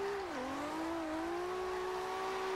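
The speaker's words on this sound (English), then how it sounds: "Then do a little bit of handbrake around here in second." Toyota Supra in the Forza Horizon 2 racing game, its engine droning steadily in second gear through a handbrake drift, a continuous mid-pitched tone that dips briefly and then holds, with faint tire noise and no talking.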